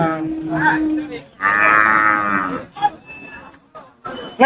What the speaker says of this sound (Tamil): இன்னைக்கு மாடு வரத்து அதிகமாக இருக்கு